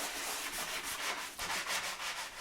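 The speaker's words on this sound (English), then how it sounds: "Then sanding down with a block all these complex shapes." Rhythmic strokes of hand sanding with a block over filler on a Daihatsu Charade car body, a rough scratchy rasp repeating back and forth at a quick even pace, close and fairly quiet.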